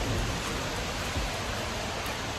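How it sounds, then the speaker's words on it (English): Steady rain falling outdoors on a Florida evening, heard as a dense, even hiss that stays constant and fairly loud throughout, with no talking over it. "It's raining."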